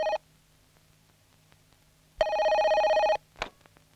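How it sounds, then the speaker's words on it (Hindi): A telephone rings in a Hindi horror film: a short clipped burst of ringing, a pause, then one long electronic ring lasting about a second, followed by a brief muffled knock. "जा बेटा जरा फोन दे।"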